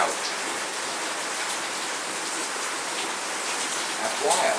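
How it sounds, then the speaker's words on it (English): Heavy rain pouring outside, a dense, steady hiss that continues unbroken and fills the whole clip, loud and close, with no one speaking. "Listen to that rain. It's just frickin' pouring out."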